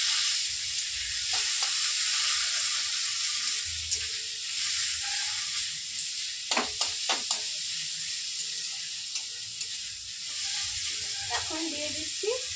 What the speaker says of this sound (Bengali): পেঁয়াজ রসুন বাটা একসাথে।